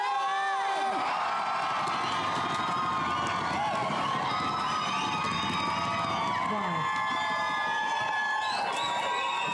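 Crowd at the 2014 North American Indigenous Games closing ceremony cheering, a dense, sustained roar of shouts and whoops alongside loud music, with an announcer's voice rising over it at the start.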